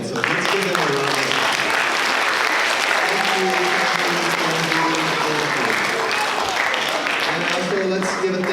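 Steady, loud applause from an audience at a multicultural speech festival in a performing arts center, sustained clapping throughout with voices and cheering audible beneath it.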